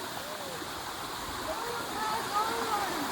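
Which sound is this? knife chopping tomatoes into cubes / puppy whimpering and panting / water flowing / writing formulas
water flowing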